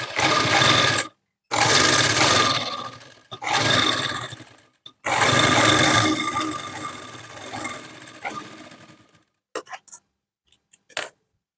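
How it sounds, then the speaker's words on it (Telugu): Sewing machine stitching fabric piping along the lining edge of a blouse, running in several loud sustained bursts with short pauses between them, then a few brief clicks and taps at the end. "ఇప్పుడు లైనింగ్ కింద వైపు పెట్టేసుకొని ఇలా పైపింగ్ పక్కనే ఎడ్జ్లో ఒక స్టిచ్ వేసేసుకోవాలి."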